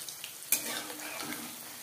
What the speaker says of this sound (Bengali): পকোড়া ভাজবো